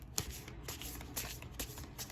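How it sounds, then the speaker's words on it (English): Tarot cards shuffled by hand, faint, close papery riffles and soft slaps repeating in a quick, irregular rhythm, with no talking. "I want to shuffle on camera for you guys"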